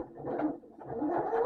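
Sewing machine stitching quilt squares from a Moda jelly roll: a soft, close mechanical whir that rises and falls over a short run.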